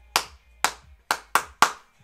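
Five crisp hand claps played as a rhythm pattern in a music lesson, close and clear. The first three are evenly spaced and the last two come quicker, with near silence between them.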